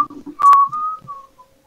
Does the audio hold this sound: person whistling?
yes